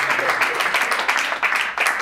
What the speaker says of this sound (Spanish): Podéis aplaudir si algo os gusta.